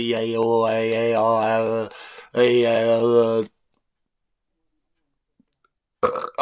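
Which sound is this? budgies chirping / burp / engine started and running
burp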